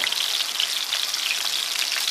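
Sesame crusted yellowfin tuna sears in a hot pan, producing a dense, steady sizzle of crackling oil, close and constant with no voices over it.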